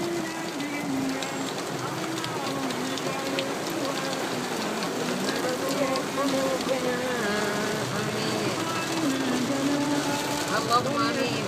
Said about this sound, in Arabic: وديان من المطر